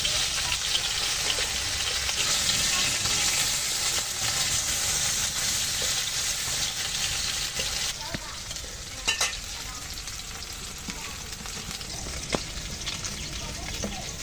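Bele and tengra fish sizzle loudly in hot oil with steady crackling, broken by a few sharp scrapes and clatters as pieces are turned; no speech.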